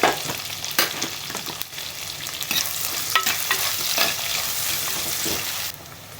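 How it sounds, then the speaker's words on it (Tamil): Onions sauté with curry leaves in a pan for village-style chicken kulambu, giving a loud, continuous close sizzle broken by irregular stirring scrapes, with no voices. "வெங்காயம் நல்லா வதங்கட்டும்"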